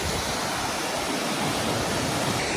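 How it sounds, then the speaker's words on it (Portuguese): A powerful waterfall in Norway roars steadily beside a roadside stop, a loud, dense, unbroken rush of falling water with no voices. "De repente, um barulho de cascata muito forte."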